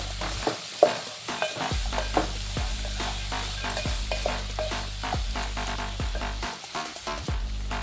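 Meal maker and green peas fry in a pan for veg pulao while a spoon stirs them in regular scraping strokes over a constant close sizzle.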